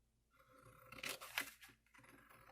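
Scissors cutting through a sheet of computer paper along a drawn line, a few short close crisp snips and crunchy tearing sounds in a quiet room.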